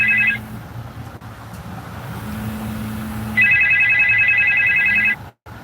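A telephone rings in two bursts of rapid electronic trilling, one brief and one longer, loud over a steady background hum with no speech.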